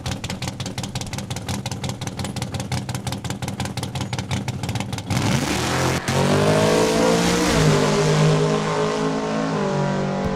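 A 1968 Camaro race car at Saskatchewan International Raceway drag strip: rapid rhythmic engine pulses build, then a loud sustained roar as the car launches and accelerates hard away, pitch climbing through gears.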